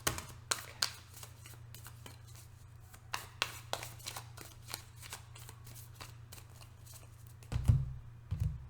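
Tarot cards are shuffled in quick riffling bursts close up over a low steady hum, with a brief thump near the end.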